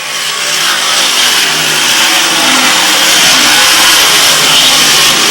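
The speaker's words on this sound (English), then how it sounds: "Mike Perotti working a rim on the outside, running in a 10th spot." Loud, continuous roar of stock race cars at full throttle on an oval track, engines blending into a dense wall of sound for several seconds with no talk over it.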